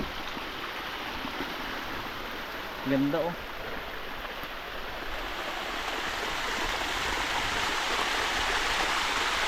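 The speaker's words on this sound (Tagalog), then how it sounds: "May bumababa na tubig galing sa bundok." Stream water running down from a mountain beside a cornfield, a steady broadband rush that fills the whole clip at moderate level, with a brief spoken voice partway through.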